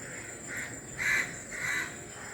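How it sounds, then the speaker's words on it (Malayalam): Crows give three harsh caws in quick succession from a short distance outdoors, the middle call loudest, over a faint background of insects. "ഞങ്ങളുടെ വീഡിയോസിൽ എപ്പോഴും കാക്കേൻ്റെ സൗണ്ട് നല്ലോണം ഉണ്ടാവും കേട്ടോ."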